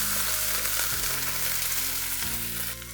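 Red and orange tomatoes hit a hot pan of pesto sauce and are stirred, giving a loud, close, continuous sizzle and hiss with no talking.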